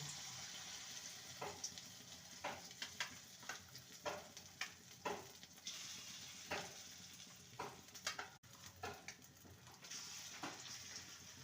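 Egg, onion and chopped coriander fritters frying in hot oil, a steady sizzle with scattered sharp pops and stirring clicks spread through the whole stretch, fairly quiet and with no one talking.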